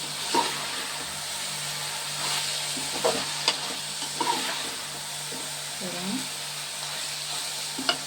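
Brinjal pieces with cumin and coriander seeds frying in oil, soft sizzling under repeated stirring scrapes and spoon taps, fairly quiet and close.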